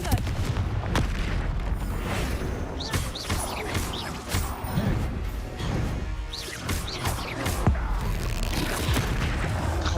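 Confringo fire spells blasting during Hogwarts Legacy combat: a dense, loud barrage of booming impacts and crashing explosions that runs without a break, with a voice now and then underneath.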